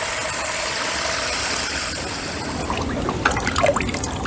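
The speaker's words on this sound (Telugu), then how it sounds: "త్రీ ఫోర్త్ వరకు వాటర్ నింపేద్దాము" Water runs from a tap into a bucket to mix liquid fertilizer for a rooftop vegetable garden, a steady close gushing stream that turns into louder, irregular splashes near the end.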